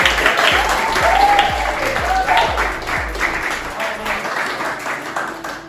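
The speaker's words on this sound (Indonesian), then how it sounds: "Oke, sebelumnya beri aplaus dulu." Classroom applause after a group presentation on Javanese culture, a steady dense clapping from many hands that holds for several seconds and slowly thins out near the end.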